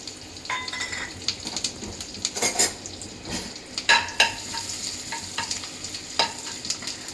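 Whole cinnamon, cloves, cardamom and fennel spill into melted butter in a pan, crackling and sizzling with sharp pops and a few clinks of a spoon against metal, close and without speech.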